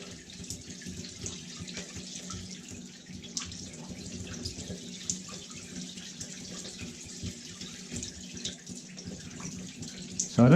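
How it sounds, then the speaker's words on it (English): Water runs steadily from a bathroom hand basin tap beside a shower unit, a continuous moderate splash that keeps an even level throughout, with a louder burst at the very end. "So if I turn the hand basin, so no hot water getting through that."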